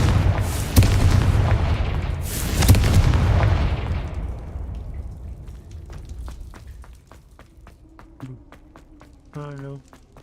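In the Hogwarts Legacy video game, a Confringo fire spell detonates with heavy booming blasts and crackling bursts that roll out and fade over several seconds, followed by scattered sharp clicks and a brief voice near the end.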